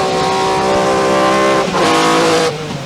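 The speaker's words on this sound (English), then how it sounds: "That is the noisiest rally car I've ever sat in and ever experienced." Loud, high-revving MG Metro 6R4 rally car engine roaring close up, pitch climbing and shifting through gears with a harsh, buzzing tone.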